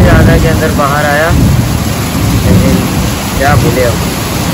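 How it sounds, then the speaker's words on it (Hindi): Heavy, sudden downpour pouring steadily outdoors, a dense continuous hiss of rain that stays loud throughout, with voices talking over it. "अचानक से इतनी ज़्यादा तेज़ बारिश होने लगी है"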